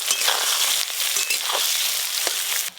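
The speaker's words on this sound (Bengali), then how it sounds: "এই যে মাছের তেল ভাজতেছু, তারপর পেঁয়াজ দিছু" Chopped onions fry in hot fish oil, a steady loud sizzle with crackling and a few soft stirring scrapes, close up, with no voices, for bhetki fish-bone chorchori.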